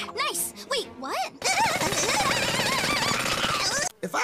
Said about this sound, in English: I call Jackhammer!